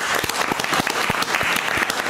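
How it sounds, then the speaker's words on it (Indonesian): Steady applause from a crowd, dense continuous clapping at a consistent level with no voices standing out, greeting an online gaming stream audience in Indonesia. "tepuk tangan buat kalian"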